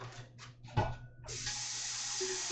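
Water gushes from a tap into a 12-quart pot, starting after a few brief clunks and then running as a steady, fairly close hiss with no talking.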